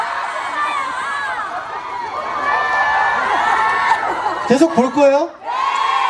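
A crowd of fans shouts and cheers at a butterfly festival, a steady mass of whoops and high voices, with someone speaking briefly over it near the end before the cheering resumes.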